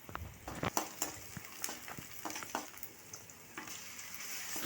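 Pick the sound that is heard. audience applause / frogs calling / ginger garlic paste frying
ginger garlic paste frying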